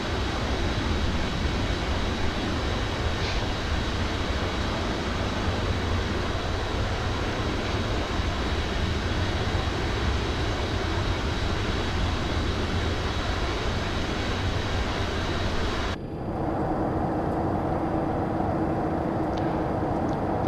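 Boeing 707 jet engines roar on departure in Microsoft Flight Simulator 2024, a dense, steady broadband rumble heard alone; after a brief drop near the end the roar returns quieter and more muffled.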